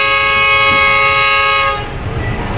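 A CC 201 locomotive hauling the Siantar Ekspres sounds a shrill, steady horn blast for almost two seconds, loud and close, over the rumble of the running train, which carries on after the horn stops.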